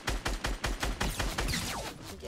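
A rapid burst of about eight sharp, evenly spaced gunshots in Fortnite Battle Royale, loud and close, trailing off into a brief ringing tail.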